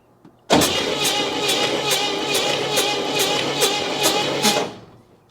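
A Pontiac Star Chief engine, a barn find unstarted for 42 years, cranks over on the starter in a loud, close run of rhythmic chugging pulses lasting about four seconds before cutting off.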